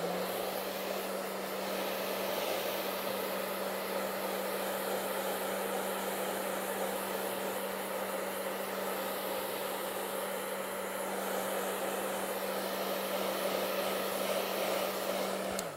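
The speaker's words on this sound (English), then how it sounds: "I put the blower on, I shut the blower off" A blower runs continuously, drying paint on a canvas in a painting studio, a steady, loud, even rushing roar with no pauses and no voices.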